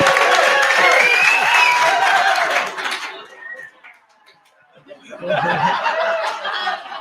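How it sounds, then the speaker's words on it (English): A live audience laughs and applauds loudly, fades into a brief lull, then bursts back into cheering and clapping. "we're gonna cheer extremely loudly"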